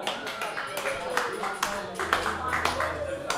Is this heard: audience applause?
yes